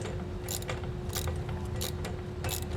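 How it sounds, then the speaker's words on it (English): 17mm socket wrench tightening bolts on an over-the-cab truck bed ladder rack fitted to a 2021 Ford: quiet repeated ratcheting clicks in short bursts over a steady low background hum, fairly close but faint. "We can tighten these all the way down. I'm using a 17mm socket to do this."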